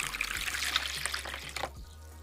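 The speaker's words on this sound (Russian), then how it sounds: "В миску отправляем теплую воду." Warm water pours and trickles into a bowl for a couple of seconds, then tapers off, close and fairly quiet.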